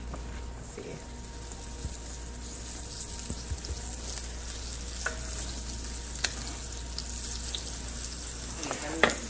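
Flour-dusted beef short ribs sear in a hot pan with a steady close sizzle and a few scattered clinks and pops, under a low background hum.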